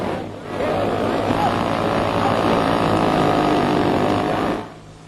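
A radio-controlled model airplane flying a stunt, its small engine giving a loud, buzzing drone that swells in, holds steady overhead, then fades quickly away.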